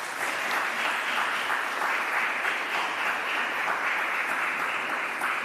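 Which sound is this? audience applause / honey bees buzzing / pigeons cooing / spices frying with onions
audience applause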